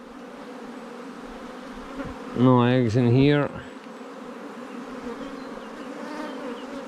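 Honey bees buzz on a hive frame among capped brood that is hatching out. A soft, steady hum continues throughout, and a voice speaks briefly over it.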